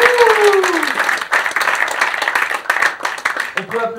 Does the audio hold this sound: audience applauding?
yes